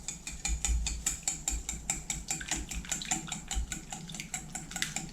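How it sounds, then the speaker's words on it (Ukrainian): A wire whisk beats eggs with sugar and salt in a bowl for crepe batter, giving a brisk, even run of metallic clinking strokes against the bowl, close and continuous, with no talking. "До яєць додаю цукор та сіль. І вінчиком розіб'ю яйця."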